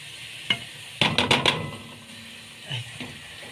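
Pasta going into salted boiling water for Egyptian koshari makes a few quick clinks and rustles, then a brief cluster of splashes and rattles, with soft bubbling between them in a quiet kitchen.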